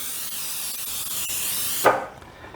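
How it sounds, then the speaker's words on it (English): A steady hiss of an aerosol cooking spray lasts nearly two seconds, then stops with a soft clunk against the pan. "What I'm going to do is I'm going to spray it with cooking oil."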